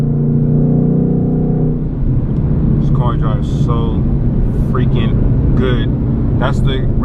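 A 2020 Ford Mustang 5.0 with a muffler delete is driven at night, its engine a deep, steady drone that shifts in pitch after the first seconds, while someone talks over it throughout.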